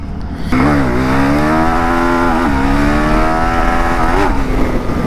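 A Husqvarna Svartpilen 401 motorcycle with traction control switched off sits close and loud with a steady engine drone, briefly blipped upward twice by the throttle.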